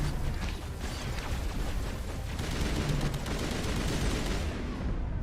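Weapon gunfire in Mass Effect during a battle against Geth, dense rapid bursts of shots crackling continuously over a noisy combat din, loud and sustained for several seconds.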